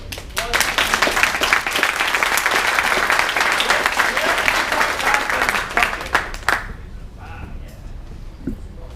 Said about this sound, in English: let's give a great big round of applause